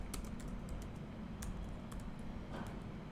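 Code is typed on a computer keyboard in a steady, close, quiet patter of keystrokes, with scattered sharper key taps over faint background hiss and no talking.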